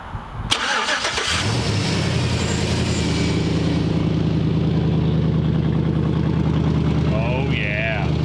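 A squatted truck's engine starts with a sharp catch, then runs loud and steady at close range while the vehicle drives missing one wheel. Voices talk briefly over the running engine.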